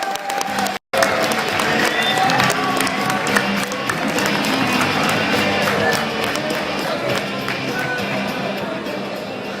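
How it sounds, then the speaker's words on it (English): Big round of applause from a high school audience in Milwaukee welcoming a performer, loud continuous clapping with crowd noise and a brief dropout near the start. "let's get a nice big Milwaukee welcome for Blaze Winter, everybody. Round of applause"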